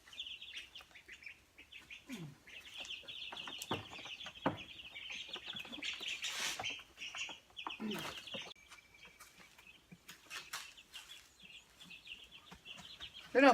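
Baby chicks and ducklings in a brooder keep up a steady chorus of high peeping and chirping, with occasional thumps and handling noises nearby and a soft voice underneath.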